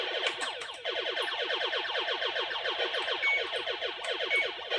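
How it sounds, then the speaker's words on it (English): A rapid, repeating electronic warning tone blares steadily from a video game cockpit, urging the pilot to eject; the loud pulsing alarm runs continuously throughout with no talking. "The alarm's going. It's telling me I should eject."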